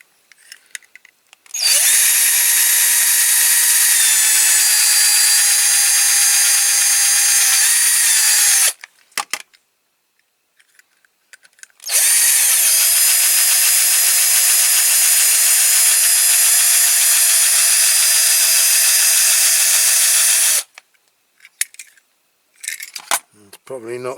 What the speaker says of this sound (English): we'll get the drill and we will drill the bases off